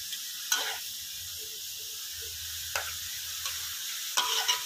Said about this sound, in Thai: ผัดหมูให้สุกเลยนะครับ ผัดหมูให้สุกพอประมาณนะครับผม